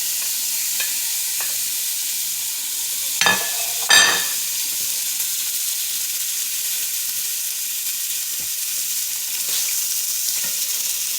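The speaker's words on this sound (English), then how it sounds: "you want to go ahead and cook your bacon" Bacon frying in oil in a pan gives a steady, fairly loud sizzle throughout, with two brief louder clatters of a utensil early on and no talking.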